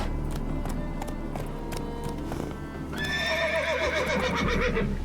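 Horse in the video game The Witcher 3, a run of clip-clopping hooves followed by a loud, close whinny with quick trailing snorts.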